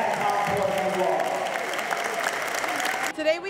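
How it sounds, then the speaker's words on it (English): Spectators at a high school robotics competition in Peekskill give sustained applause, a dense wash of clapping from a crowd that fades toward the end, with some voices in the mix. "Let's give them a big round of applause"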